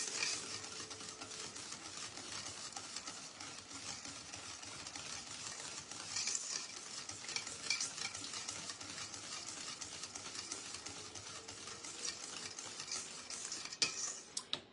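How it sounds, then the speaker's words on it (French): A spoon stirs egg yolks into cake batter for a cheesecake charlotte, making a steady, quiet wet scraping and swishing against the bowl with small clinks, and no talking. "Ça, je vais le mélanger directement avec ma préparation."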